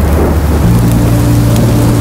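Steady rain with a low rolling rumble of thunder from the Minecraft: Story Mode video game, a continuous dense wash that swells slightly partway through, with no voices over it.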